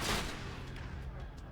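A turret in a sci-fi action game opens fire, a short dense burst of rapid gunfire right up close, loud throughout.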